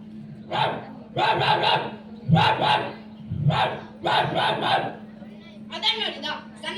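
A performer at a school mimicry competition imitates a house dog barking with the voice: about six loud, rough bark bursts at an uneven pace, close to the microphone, over a steady low hum.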